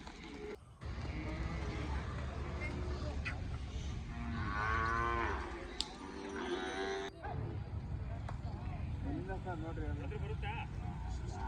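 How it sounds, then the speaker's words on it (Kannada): Hallikar cattle moo several times at a cattle fair in Magadi, Ramanagara, long drawn-out lowing calls, amid people talking and the hum of passing traffic nearby. "ತಳಿ ಹಸುಗಳಿದ್ದಾವೆ, ಒಳ್ಳೆ ಜಾತಿ ಹಸುಗಳು"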